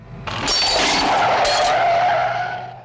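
Loud, sustained tyre screech as a car skids through a tight corner during a police chase after crooks through London back streets in the 1967 film Robbery, rising sharply then fading over about three seconds with no talk.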